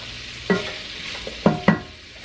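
Chopped carrots and celery dropped into a soup pot with kielbasa, a few soft thuds and clatters over a low sizzle, close by with no talking.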